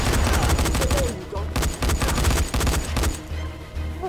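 Dense, rapid gunfire bursts in a zombie video game crackle loudly and almost continuously, forming overlapping volleys with brief dips between them.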